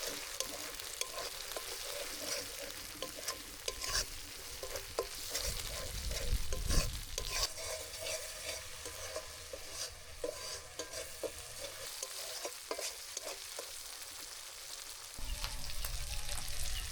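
Fried onions and mustard paste hiss in a pan in a village kitchen, a long, steady sizzle broken by repeated stirring clatters and scrapes.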